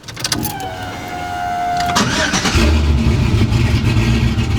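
A 1970 Chevrolet Nova's engine, about 50 horsepower, cranks and catches, then revs up into a loud, rough roar that holds steady, close by.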